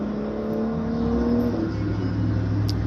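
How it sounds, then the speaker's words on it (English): Outdoor road traffic passes by: a low, steady rumble swells as a car goes past, and an engine hum shifts in pitch. It sounds moderately close and continuous, with no voices. "Every time I try to do a voiceover, there's traffic, traffic, traffic."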